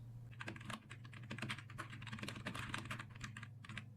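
Fast, uneven typing on a computer keyboard while a video idea is entered into the vidIQ script generator, with dense clicky keystrokes over a steady low hum and no talking.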